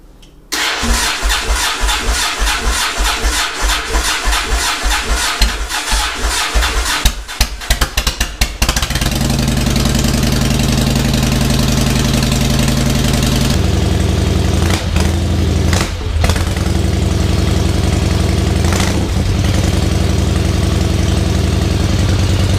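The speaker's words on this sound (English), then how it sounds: "I'm gonna see if the motorcycle will start here." A motorcycle engine cranks with rapid sputtering pulses, catches and fires up, then settles into a loud, steady idle close by.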